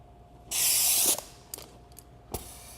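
Air rushes through a firefighter's SCBA regulator and face piece, with one long loud hissing inhalation followed by several short sharp puffs and clicks.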